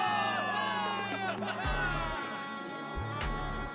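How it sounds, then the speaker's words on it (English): Soldiers cheering for victory in the video game Zenless Zone Zero: a dense crowd roar with scattered whoops runs steadily throughout, and deep low rumbles from the game score sit underneath. "Give it up for yourselves, soldiers! Cheer for victory!"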